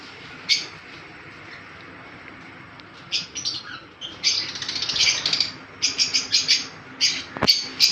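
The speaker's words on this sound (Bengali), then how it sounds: "সমস্ত রকমের পাখি এখানে আছে" Pet lovebirds and conures chirp and tweet in a bird shop in quick, scattered bursts, growing busier toward the end, over a faint steady background hum.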